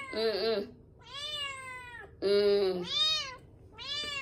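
A pet cat named Oreo meows repeatedly nearby, several drawn-out, rising-and-falling cries in quick succession, with a person talking softly in between.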